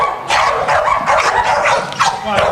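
A trained dog barks repeatedly during an obedience session, several sharp close barks in irregular succession with a few yips, loud and alone with no talk.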